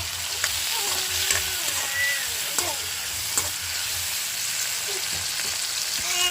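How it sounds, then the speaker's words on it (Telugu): Cumin and tomatoes fry loudly in a pan, a dense crackling sizzle broken by repeated utensil scrapes and clicks from stirring, with no voices. "జీలకర్ర టమాటాలు వేసి బాగా ఫ్రై చేస్తున్నాను."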